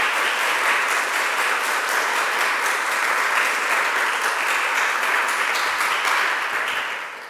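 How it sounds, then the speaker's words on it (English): Sustained applause from a seminar audience welcoming a speaker on stage, steady and dense clapping that holds for several seconds before tapering off at the end. "ask you to welcome with your warm applause, Mike Scaparrotti."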